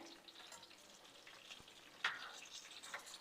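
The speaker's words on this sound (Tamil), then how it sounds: "டீப் ஃப்ரை பண்ணலை, நான் சாலோ ஃப்ரை தான் பண்ணிகிட்ருக்கேன்" Chicken shallow-fries in a pan, a soft steady sizzle heard close up, with a couple of brief sharp spatters or utensil taps partway through.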